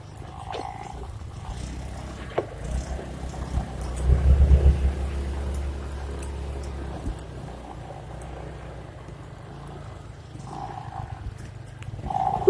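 Honda automatic scooter engine straining over rough off-road ground on a camping and fishing trip, a low droning hum that swells into a louder revving surge midway, then eases back amid wind buffeting on the microphone.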